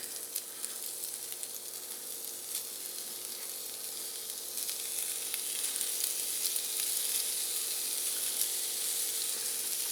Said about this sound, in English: I got my skillet lightly oiled, and just going to start putting the ground beef in